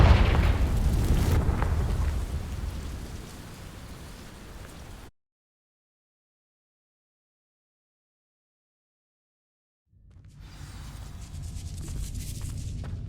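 The Confringo fire spell bursts into dry vines in Hogwarts Legacy with a loud, deep rumbling blast that slowly fades. After several seconds of total silence, a hissing, crackling roar swells up again.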